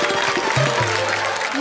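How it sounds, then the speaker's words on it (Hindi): An audience claps loudly and continuously at a Hindi comedy and poetry stage show, the applause dense and close with a few brief musical tones mixed in. "तालियां बजाओ।"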